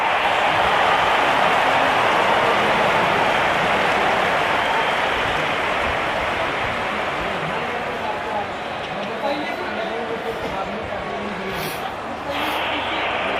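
A large crowd cheers and applauds at an England vs India T20 cricket match in Southampton, a dense roar that stays loud throughout and eases slightly near the end.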